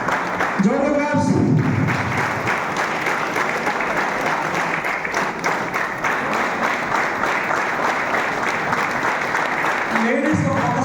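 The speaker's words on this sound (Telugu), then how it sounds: "జోరు క్లాప్స్." Loud, dense clapping from a large audience at a training meeting, sustained for about ten seconds, with a voice speaking at the start and again at the end.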